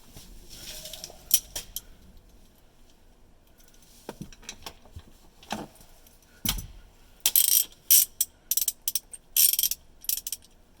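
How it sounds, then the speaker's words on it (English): A ratchet works the rear 15mm bolt on the driver's seat bracket of an S197 Mustang, giving short bursts of quick metallic clicking between quieter pauses, loudest near the end. "we're going to take out the back bolt of the driver's seat bracket"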